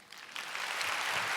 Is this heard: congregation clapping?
yes